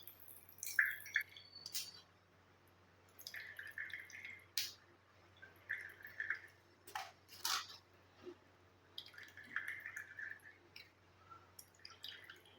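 Liquid drips from a freshly made hair-dye paste as it is squeezed by hand, a faint, close series of scattered wet drips and small squelching taps in a quiet room.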